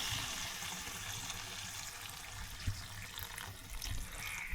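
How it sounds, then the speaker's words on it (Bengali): Hot water being poured into a duck curry cooking outdoors by a lakeside, a continuous splashing, gushing flow heard close and fairly quiet, with no talk. "এই যে গরম পানির ঝোল দিয়ে দেওয়া হচ্ছে"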